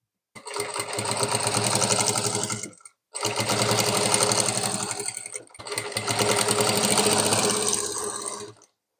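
Sewing machine stitching a belt onto a ready-to-wear saree, running in three long steady bursts of rapid mechanical whirring, each a few seconds, separated by brief pauses, close and fairly loud with no voices.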